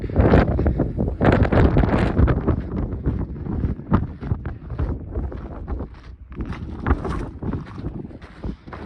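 Strong, steady wind gusting on Mount Whitney during an October day hike, a loud continuous roar and buffeting across the microphone with surging bursts throughout.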